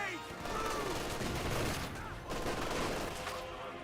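Heavy .50 cal machine gun fire in a Company of Heroes 2 battle, dense rattling bursts running steadily with a short gap midway, loud and close amid a busy battlefield din.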